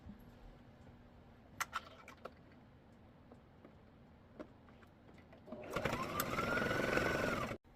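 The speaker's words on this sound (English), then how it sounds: "Now you're just going to stitch around the pocket." Sewing machine stitching around a small fabric pocket for a chapstick holder, after a few quiet clicks and handling taps, then a sustained close whirring run of the motor that stops abruptly.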